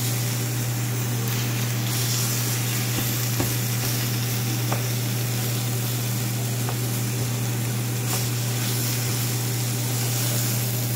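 Ground meat cooks in a pan, giving a steady, loud sizzle with a constant low hum underneath and occasional faint clicks.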